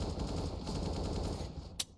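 A scout rifle firing in Counter-Strike: steady, dense game noise gives way to a single sharp, loud shot near the end, with no voices.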